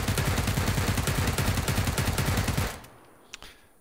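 A rifle with a bare muzzle fires a rapid, sustained string of loud, sharp shots for nearly three seconds, then stops, leaving a faint echo and one small click.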